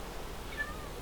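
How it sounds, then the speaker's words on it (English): A faint, brief cat meow in Minecraft, a thin high cry that barely rises above a steady low background hum. "Oh dear, I hear a cat"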